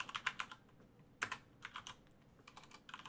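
Quiet bursts of computer keyboard typing, clustered clicks in short runs with pauses between them, close and alone.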